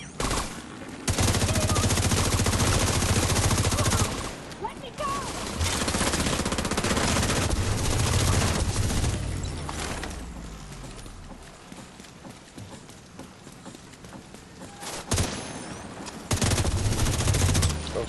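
Bursts of rapid gunfire in an Xbox open-world video game, loud and close, mixed with clopping horse hooves, then a quieter stretch before the shooting resumes near the end.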